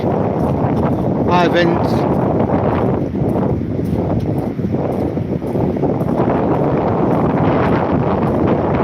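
Strong wind buffets the microphone along a seaside promenade, a constant loud rumble with a voice speaking briefly over it.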